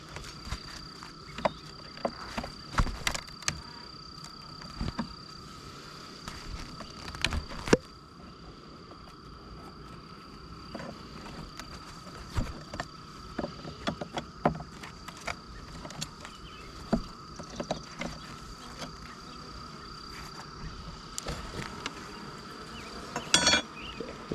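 A constant buzz of honey bees around a hive hums close by, with scattered sharp knocks and clicks breaking through at irregular moments.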